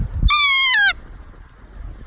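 A kea, New Zealand's alpine parrot, gives one loud, clear, descending screech lasting under a second, close by at sunrise at a mountain hut, followed by quiet outdoor ambience.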